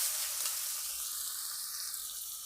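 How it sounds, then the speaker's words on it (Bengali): Poppy seed paste with green chillies sautéing in a pan gives a bright, steady, close sizzle that eases slightly as it goes on, with no voices. "লঙ্কা দুটো আর পোস্ত বাটা এর মধ্যে দিয়ে দিলাম। দিয়ে ভালো করে 3-4 মিনিট ভালো করে কষে নিতে হবে।"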